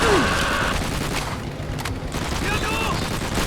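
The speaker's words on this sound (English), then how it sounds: "I know that machine guns are loud" Dense, continuous machine gun fire in the video game Call of Duty: World at War, loud rattling bursts blending into a harsh wall of noise with muffled voices underneath.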